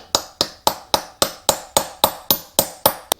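Sharp metallic hammer blows on a punch against a stuck bolt on a Yamaha YFM225 ATV ring out one after another, about a dozen evenly spaced strikes in a steady, quick rhythm, close and loud.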